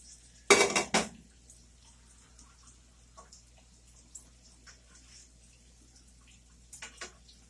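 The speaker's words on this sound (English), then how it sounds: "Now we're going to come back over here and we're going to flip the Salisbury steaks." Salisbury steaks flipped in a pan: a loud, brief clatter of a utensil against the pan near the start, then a quiet background with a few faint clinks and another small clatter near the end.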